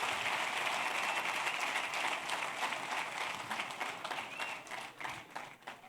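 Applause from a comedy show audience, a dense, fairly distant wash of many hands clapping that holds steady and then gradually thins and tapers off.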